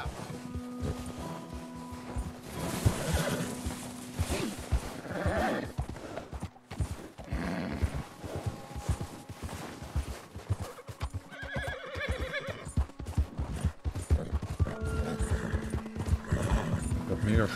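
Horse hooves clip-clop and a horse whinnies amid Red Dead Redemption 2 game sounds, with talking over much of it.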